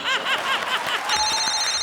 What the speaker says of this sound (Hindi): एक मिनट फोन आ गया अपन को.